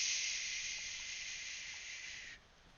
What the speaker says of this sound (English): God, listen to that rain.